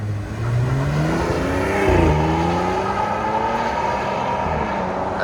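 A 2025 RAM 1500 with the 3.0L Hurricane twin-turbo inline-six and a Flowmaster Super 10 exhaust revs loudly and close, its pitch rising, dipping briefly, then holding in a sustained rumbling drone.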